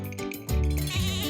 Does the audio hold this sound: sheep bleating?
yes